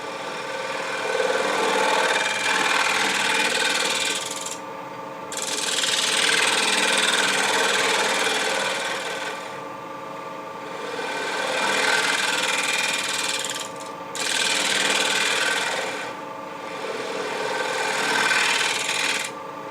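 A wood lathe spins a turned piece as a negative rake scraper shaves it, giving a steady whirring hum with scraping swells that pause briefly between passes; close and continuous, no talking.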